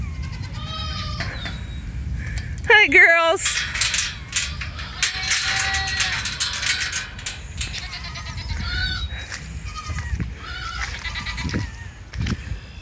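Several goats bleat close by, loud wavering cries scattered through the clip, while a person speaks briefly to them amid rustling.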